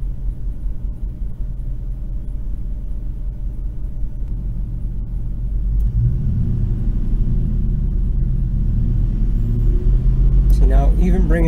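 A car engine runs at idle during an alternator test, then its RPM is raised. A steady low rumble grows louder and fuller partway through, and a voice comes in briefly at the end.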